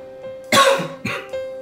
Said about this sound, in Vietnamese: Sáng giờ em bị ho khan hoài.